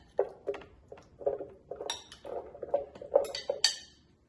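Soaked cashews tumble into a blender jar, making a close series of light clinks and hard clatters, loose and irregular, with no talking.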